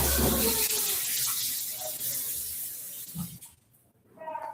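Tap water runs into a sink for hand washing, a close, steady hiss and splash that fades out, then briefly returns at the end.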